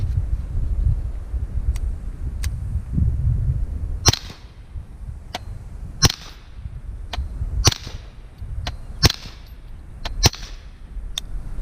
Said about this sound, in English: All right, this time, 5 rounds of Freedom Munitions